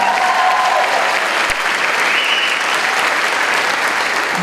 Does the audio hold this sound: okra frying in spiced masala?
no